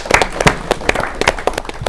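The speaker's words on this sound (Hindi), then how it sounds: "एक बार ताली और शुक्रिया इन क्लीनर्स का जो बाथरूम साफ रख रहे हैं।" An audience claps in thanks for cleaners who keep bathrooms clean, brisk irregular handclaps from a small crowd, fairly close and loud throughout.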